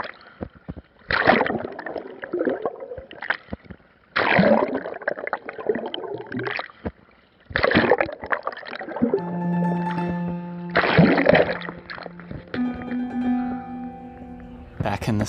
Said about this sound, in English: Here's me doing breaststroke and the camera bobbing in and out of the water.